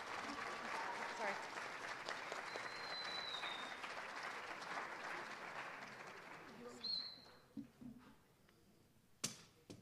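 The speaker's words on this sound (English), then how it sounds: "Let's give all these students a round of applause." A crowd claps for students at a high school awards event, applause holding steady for several seconds before thinning out into a few scattered late claps and small knocks near the end.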